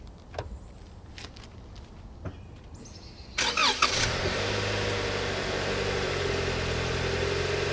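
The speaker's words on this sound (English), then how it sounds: "I'm going to start it up, then show you engine performance" A 2020 Toyota Camry XLE starts after a few quiet cabin clicks, catching with a short crank and then holding a smooth, quiet, steady idle.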